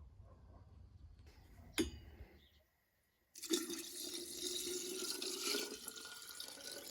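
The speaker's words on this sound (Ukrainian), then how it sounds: "Води наливаю наразі не до самого верху" Water splashes briefly, then after a pause a steady stream pours continuously into jars of sliced apple, orange and lemon for compote, close by and moderately loud.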